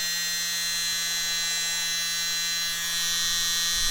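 A mini electric blower runs steadily throughout, a loud, constant high-pitched whine with a low hum, used to blow acrylic paint across a small Dutch pour.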